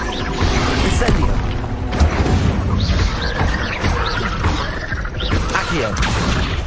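Incendio fire spell cast during Hogwarts Legacy combat, a loud dense burst of magical whooshes, crackling impacts and crashes running continuously over several seconds amid busy game effects and voices.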